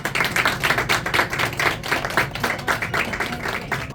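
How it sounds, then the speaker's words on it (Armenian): Applause for children at a Vahan Terian commemoration event, a steady dense clapping from a crowd filling a hall, even and sustained throughout without breaks. "Եկեք բարձր ծափահարենք մեր երեխաներին։"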